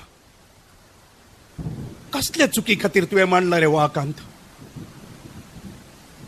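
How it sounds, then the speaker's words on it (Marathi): A thunderstorm sound effect rumbles low in a Konkani stage drama, then a man declaims dramatically over it. The faint rumble continues underneath once he stops. "हे वादळ हो गडगड ह्यो लखलखपी विजो"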